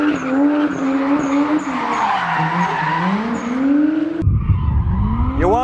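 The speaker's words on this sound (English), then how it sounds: "a drifting car speeding past by you" A drifting car speeds close past at the Sochi Formula 1 event, its tires skidding and squealing while the engine note rises and falls, loud and sustained, ending in a sharp burst of tire screech.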